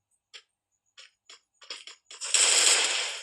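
Gunfire in a shooting video game: a few single sharp shots spaced apart, then a closer quicker pair, ending in a loud sustained burst of rapid fire.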